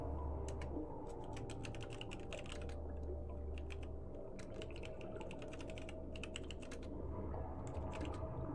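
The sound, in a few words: typing on a computer keyboard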